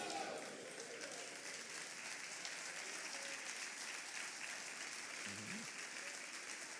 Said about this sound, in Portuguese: Você está aplaudindo Jesus, você pode fazer melhor.